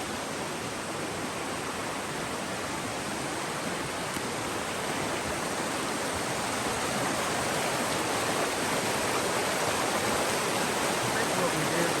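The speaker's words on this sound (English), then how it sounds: "Get down here and see the river. We're real close to it." A river rushes close by in the Dolly Sods wilderness of West Virginia, a steady, full wash of flowing water that holds constant and swells slightly toward the end, with no voices over it.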